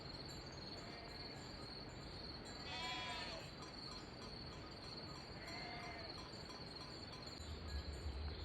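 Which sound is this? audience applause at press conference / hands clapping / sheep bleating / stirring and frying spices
sheep bleating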